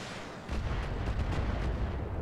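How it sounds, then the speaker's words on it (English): MML missile launchers fire in a video game: a dense, rumbling barrage of overlapping launch blasts and bursts that starts suddenly and holds at steady loudness, with no talking. "And we'll just target them with MMLs and fire everything."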